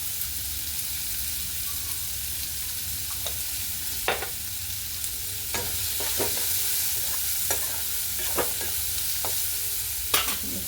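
Chickpeas frying in a pan, a soft continuous sizzle broken by repeated scraping and clacking strokes of a spatula, close and moderately quiet.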